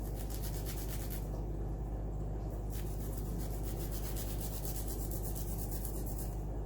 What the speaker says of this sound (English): as I grind it in there, or grate it, I guess it's a grater.